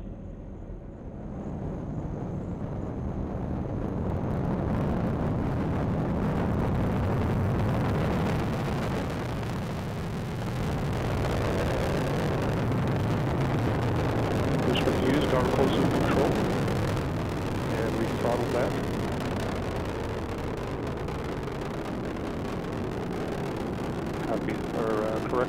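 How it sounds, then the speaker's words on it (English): Atlas V rocket booster engine during launch, a continuous deep broadband roar that swells and holds steady throughout, with a distant rumbling quality and faint voice traffic underneath. "Booster engine continues to perform well."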